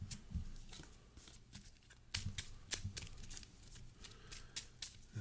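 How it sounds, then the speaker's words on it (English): A Marvel Champions card is shuffled back into the deck, quiet soft riffles and flicks of cards in a few close, brief bursts with no talking. "We're going to shuffle that back into our deck."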